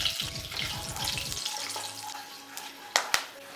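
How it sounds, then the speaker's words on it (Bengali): Whole garam masala spices fry in hot ghee, a close crackling sizzle with a few sharp pops near the end, heard without any talking. "1/2 মিনিটের মতন গোটা গরম মশলাগুলোকে ভেজে নিয়েছি"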